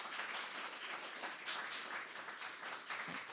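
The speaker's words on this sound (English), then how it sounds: "Could we please give Jen, Adam and Josh a huge round of applause for this evening?" A crowd claps after a panel discussion on Coventry's history, applauding the panel speakers Jen, Adam and Josh; the dense clapping is quiet and distant, continuing evenly with no voices on top.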